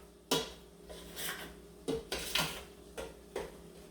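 Garlic mashed potatoes are stirred with butter in a pot, a spoon clanking against the metal in several sharp knocks with scraping in between, close and clear without talk.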